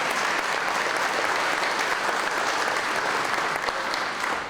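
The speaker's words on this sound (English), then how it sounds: "You all deserve a round of applause." A banquet crowd applauds legislators, many hands clapping in a dense, loud, continuous roar that holds steady throughout and thins slightly at the very end, with no voices.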